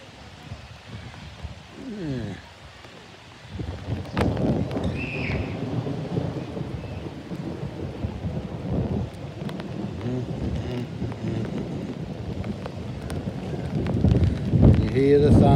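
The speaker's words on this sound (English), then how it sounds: "You hear the thunder get clapping." Thunder rumbling over steady rain on a flooded street, rolling low booms building and swelling under the patter of rainfall, with a voice speaking at times.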